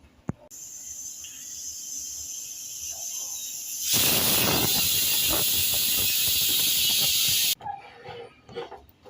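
A pressure cooker on high heat: a loud, sustained hiss of steam bursts out for several seconds after a quieter hissing stretch, then cuts off abruptly.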